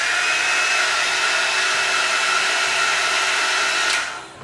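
A hot air styling tool with cool, warm and hot settings and rotating buttons runs with a steady, close hairdryer-like whoosh, holding evenly before winding down as it switches off.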